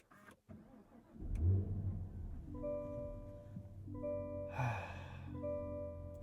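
A Cadillac CT5 Blackwing V8 cranks and fires up with a sharp starter bark, then settles into a loud, steady idle with a brief blip of revs midway, close up inside the car.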